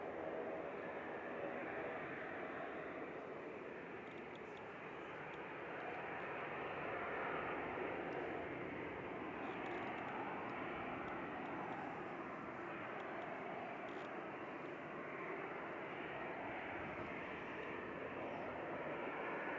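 A Eurowings airliner at Manchester Airport produces a steady, distant jet roar that holds on without a break and swells slightly partway through.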